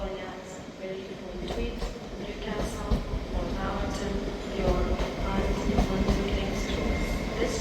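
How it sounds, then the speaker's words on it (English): An LNER train arrives at Edinburgh Waverley station, with a rumbling low roll and a few metallic clicks and squeals as it pulls in close. A station announcer talks over it. "Arriving in now is the 12:30 LNER service from Aberdeen to London King's Cross"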